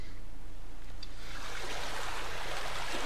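A river in the video game Freedom Planet rushes toward a waterfall, a continuous loud broadband wash of flowing water that swells and grows brighter partway through, with no talking.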